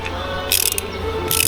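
A socket wrench ratchets while tightening a bolt on the bar of a 12V LiFePO4 battery pack: two loud, close bursts of rapid clicking separated by a short pause, with no talking.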